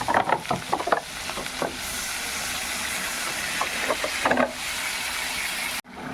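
Masala-coated fish frying in a pan lets out a loud, steady sizzling hiss as a little water goes in, with a few quick utensil clinks at the start and no voices.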